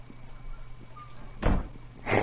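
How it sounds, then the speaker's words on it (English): A door slams shut in a video game, a dull thunk standing out from quiet ambient hum, followed a moment later by a second heavy knock. "Slammed the door."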